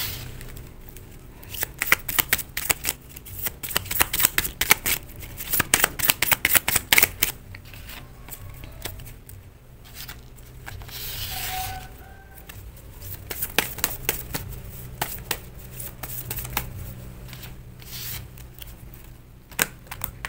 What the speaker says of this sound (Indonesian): mari kita shuffle dulu kartunya